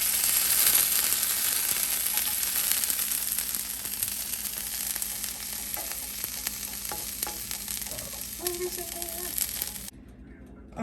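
Birria tacos dipped in consommé fry on a hot grill, a continuous bright sizzle with faint scraping and stirring clicks, close and fairly loud, fading to near silence at the very end.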